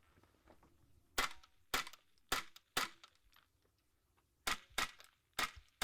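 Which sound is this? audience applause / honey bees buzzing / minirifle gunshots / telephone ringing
minirifle gunshots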